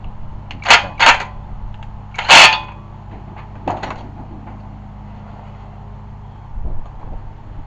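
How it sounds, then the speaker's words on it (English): A wrench torques the hub nut on a Honda Civic during a front wheel bearing replacement, producing a few sharp metallic clicks and a loud ratcheting burst, close and alone over a steady low hum. "you'll see when I torque it, it's going to take a little"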